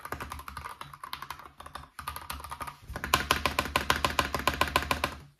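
Fingers type on a keyboard fitted with PBT keycaps and Gateron G Pro switches, close and crisp, with dense rapid clacks that grow louder and more regular in the second half.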